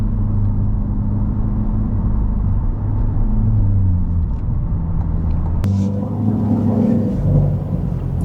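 Chevrolet C8 Z51 Corvette convertible with HTC driving along, a low, deep engine rumble with shifting pitch and road noise, interrupted by a sharp click partway through before the drone continues.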